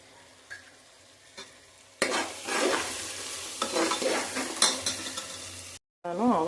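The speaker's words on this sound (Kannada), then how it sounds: "ಇವಾಗ ನಾನು 1 ಸ್ಪೂನು ಚಿಲ್ಲಿ ಪೌಡ್ರನ್ನ ಆ್ಯಡ್ ಮಾಡ್ತಾ ಇದ್ದೀನಿ." Chili powder and garam masala are stirred into a sizzling tempering in a pan, with a spoon scraping and the oil frying steadily and close up, then a brief pause before the stirring resumes.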